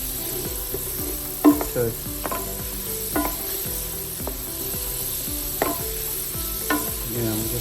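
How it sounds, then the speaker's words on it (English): Onions and other vegetables sizzle steadily while sauteing in a pan, with a scraping spoon stirring them in a repeated rhythm, close and fairly loud, and a voice says a single word briefly. "when you're sauteing, you're gonna get that smell that's just deliciously fragrant"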